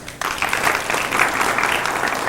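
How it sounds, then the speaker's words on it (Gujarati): An audience at a devotees' gathering breaks into applause, a dense burst of clapping that starts abruptly and carries on steadily. "આપ એમને તાળીઓના ગડગડાટથી વધાવશો"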